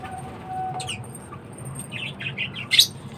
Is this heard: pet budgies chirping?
yes